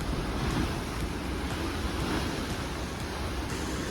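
Heavy ocean surf crashing against rocks on the Oregon coast, a continuous loud roar of breaking waves mixed with wind buffeting the microphone, no voices.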